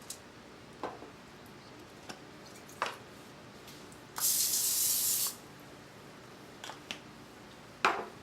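One short, steady hiss of cooking spray lasts about a second as it coats a foil-lined 13 by 9 inch baking dish. Faint clicks and taps surround it, and no one speaks.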